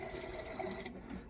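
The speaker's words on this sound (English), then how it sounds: "We're just going to pour some in the sink here." Antifreeze trickles from a jug into the bathroom sink drain of a Coachmen Beyond RV during winterizing, a short continuous pour and splash that stops abruptly.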